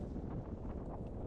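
Steady wind buffets the microphone with a low, rumbling rush aboard a sailing catamaran in the Caribbean, fairly quiet and continuous, with no talking.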